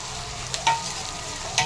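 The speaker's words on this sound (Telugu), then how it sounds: "ఇంకా కొంచెం ఫ్రై అవ్వాలి. దాంతోపాటు కరివేపాకు కూడా ఫ్రై అవుతుంది." Onions and curry leaves frying in hot oil for an egg pulusu, a steady close sizzle with a few sharp utensil scrapes and clicks as they are stirred.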